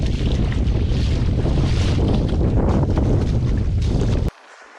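Strong gusty wind roars across the microphone at a coastal inlet on the New South Wales coast, a dense continuous buffeting rumble that cuts off abruptly near the end, leaving faint background hiss.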